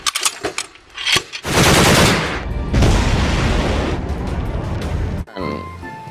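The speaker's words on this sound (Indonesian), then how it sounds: "Di sini ada sniper gun." A toy sniper gun fires a sound effect: rapid automatic gunfire bursts, loud and sustained for several seconds, preceded by a few short pops and followed by a brief electronic tone.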